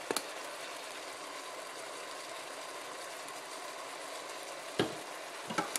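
Ground meat browning for chili in a pan, a steady broadband sizzle that runs throughout at moderate level, broken by a few sharp clinks or stirring knocks near the end.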